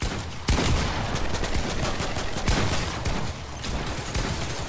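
Dense, continuous video game gunfire fills the whole stretch, loud bursts of rapid automatic shots and volleys overlapping with no pauses and no voices.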